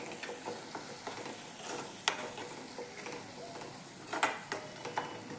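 A spoon scrapes and stirs red chilli and coriander-cumin powder into cabbage and tomatoes frying in a pan, with a constant close sizzle and occasional sharper clicks of the utensil against the pan.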